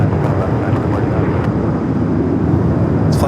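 Philippine Airlines flight 102 from Manila taxis toward the west gates at Los Angeles International Airport, producing a steady, loud low engine rumble with a faint whine on top.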